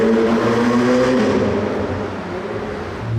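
An LT sports car passing through the Monaco tunnel during Grand Prix week, a loud close engine roar with a rising then fading pitch, echoing off the tunnel walls.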